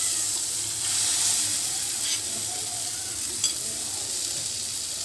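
Spice paste dropped into frying spices in a pan, with a steady close sizzle and hiss and a light clink of stirring, no voice heard.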